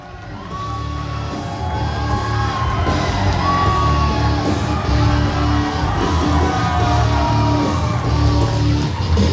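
Wrestling crowd at an independent pro wrestling show on its feet, yelling, whooping and cheering loudly and continuously, with individual shouts rising above the dense roar.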